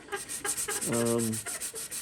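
Sandpaper rubs in quick back-and-forth strokes over a carbon fiber layer, using 320 grit while prepping the top surface. The rasping is close and rhythmic.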